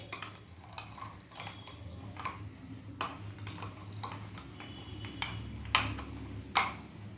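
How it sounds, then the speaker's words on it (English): A spoon mixing food in a bowl, with repeated light metallic clinks and scrapes at an uneven rhythm, close and fairly quiet against a faint background hum, and no voices. "Next, mix it."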